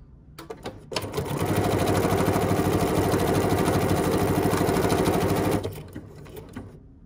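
A sewing machine runs decorative stitch number 457 vertically down the fabric, a steady rapid mechanical chatter that starts, holds for several seconds, then stops.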